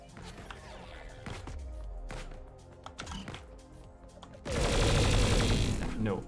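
A video game cannon blasts loudly near the end, a sustained booming roar after quieter clicks and thuds, with a voice talking throughout.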